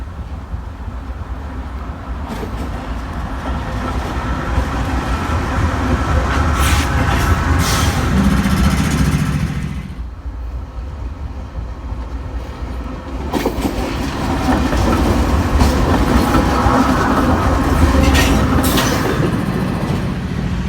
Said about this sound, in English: I found a UP Intermodal train switching tracks at slow speed